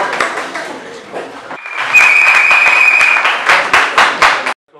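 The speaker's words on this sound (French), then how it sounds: "Il peut se mettre debout, nous allons l'acclamer." An audience applauds at an open day for a Congolese wrestling association, loud close clapping that swells and keeps going, then stops abruptly near the end, with a voice speaking over it and a brief whistle-like tone.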